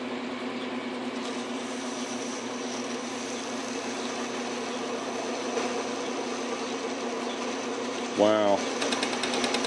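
A South Bend 9 x 24 workshop lathe cutting a pulley, its tool riding up on the material, gives a steady mechanical whir and hum with a brief sharper squeal near the end, while a voice exclaims once.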